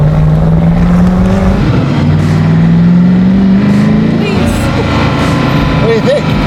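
A hypercar accelerates along a highway, its engine note rising in a loud, close drone with rising pitch sweeps and shifts heard from inside the car, while people talk over it.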